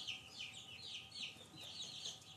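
Chicks about two weeks old peep and cluck softly in a steady, overlapping chatter, faint and continuous with no talking.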